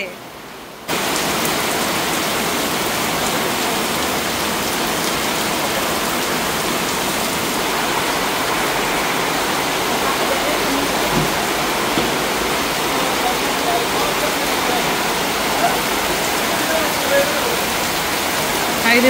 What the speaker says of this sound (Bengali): বৃষ্টির শব্দ শুনতেও ভালো লাগে